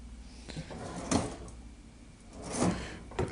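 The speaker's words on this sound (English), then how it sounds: "Then we have some drawers." Hotel room drawers slide open and shut, two distinct wooden thumps with scraping runners, close by in a quiet room.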